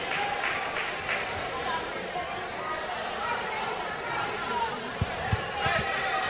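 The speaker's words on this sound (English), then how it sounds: "The crowd is noisy." Steady murmur of a noisy crowd fills a school gym during a girls basketball playoff game, with chatter throughout and a few ball bounces or thumps near the end.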